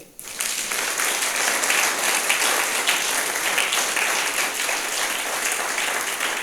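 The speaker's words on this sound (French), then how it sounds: "On peut acclamer le Seigneur" A church congregation applauds in praise of the Lord, a loud, sustained wash of many hands clapping that rises suddenly and holds steady throughout, dense and reverberant.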